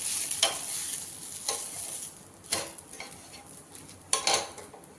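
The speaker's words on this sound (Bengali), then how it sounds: "ধোসা বানাচ্ছি আমার আর বোনের জন্য" Crispy rice dosa cooking in a pan: a steady, soft sizzle runs throughout, broken by several scraping, clinking utensil strokes against the pan at irregular intervals.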